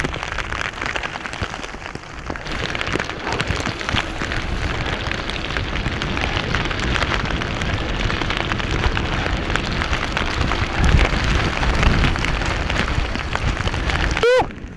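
A heavy rain downpour in the Alaskan wilderness drums steadily on a surface close by. The dense, even hiss of falling water continues without a break for the whole stretch.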